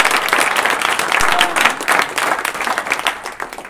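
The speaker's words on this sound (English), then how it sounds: "give yourselves a big round of applause for doing that" A big round of applause from the participants closing Des Moines Startup Weekend 2012 fills the room, with dense, steady clapping that holds at full level throughout.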